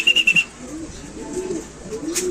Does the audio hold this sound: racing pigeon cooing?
yes